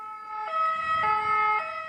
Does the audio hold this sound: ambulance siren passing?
yes